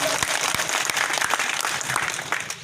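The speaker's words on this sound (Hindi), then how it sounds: "एक बार हमारे पप्पू के लिए ताली बजाओ" Crowd applause at a political rally in Harsud, Madhya Pradesh, a dense, steady clapping that fills the whole stretch at fairly close range, with no speech over it.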